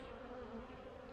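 Agitated honey bees buzz in a dense, steady drone at an open hive, close and continuous with no voices.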